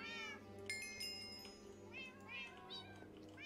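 A cloned cat in Minecraft meows several times in quick, rising and falling cries, quiet and close, over a low steady game hum.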